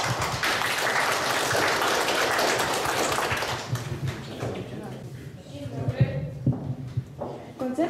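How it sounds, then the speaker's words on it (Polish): Applause for a couple being honoured at a 2014 wedding anniversary jubilee ceremony: a dense, steady clatter of many hands that fades after a few seconds, followed by voices and room sounds. "Brawa dla nich."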